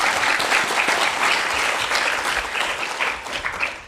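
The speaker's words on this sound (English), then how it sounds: "let's give a round of applause to all our speakers" Steady applause from an audience at the close of an evening investment seminar session, dense continuous clapping that holds level for a few seconds, fairly near and without talk over it.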